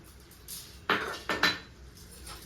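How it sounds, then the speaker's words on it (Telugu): Metal lid set onto a cooking pot of curry in a home kitchen, giving a few quick clinking clatters close by, the loudest two landing within half a second of each other. "ఇప్పుడు మూత పెట్టి ఉడికించేస్తాను."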